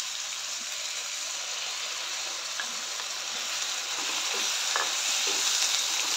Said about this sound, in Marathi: हिरवं वाटण घालून चांगलं मिक्स करून 2 मिनटं परतून घेऊया.